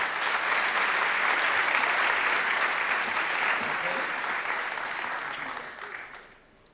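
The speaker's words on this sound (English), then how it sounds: "I really ask you to give them a huge round of applause before and a round of applause after" A crowd at a digital summit's ideathon competition gives a dense, steady round of applause for pitching contestants, the clapping holding strong before gradually fading out near the end.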